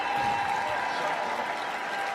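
Spectators at the UCI Trials World Cup in Berlin cheering and applauding as a continuous, dense wash of crowd noise, steady and fairly loud, with a commentator's voice faintly on top.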